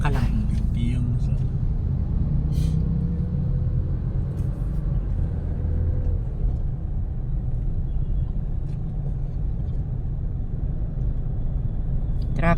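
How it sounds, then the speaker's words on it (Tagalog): Steady city street traffic rumbles close by, with passing cars and engine drone filling the scene throughout and a few brief higher noises breaking through now and then. "Traffic dito."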